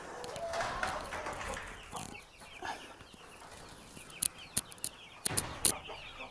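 Chicks and broiler chickens in a coop give off a steady murmur of peeping and clucking, with a run of sharp, high, close chirps near the end.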